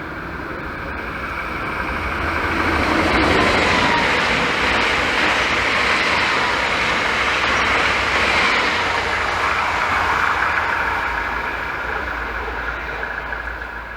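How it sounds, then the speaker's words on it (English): A regional S-Bahn train rumbles past trackside, a broad steady roar that swells over the first few seconds, holds loud, then slowly eases off as it recedes. "In the far distance I can already see another regional S-Bahn train approaching."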